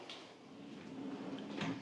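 A big, deep drawer opening or closing inside a model home, a faint, soft sliding rumble in a quiet room with no talking.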